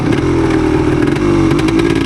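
A 1977 Yamaha DT250 dirt bike engine revs loudly and steadily up close, smooth and continuous through its range, with no voices.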